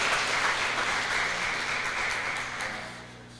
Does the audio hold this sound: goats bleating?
no